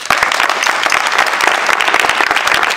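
A church congregation bursts into sustained applause, many hands clapping in a loud, dense, continuous wash that fills the whole stretch.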